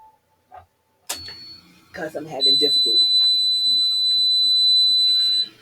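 Home oxygen machine switching on with a sharp electronic beep, then a steady high tone that holds to the end, while a person talks and breathes over it.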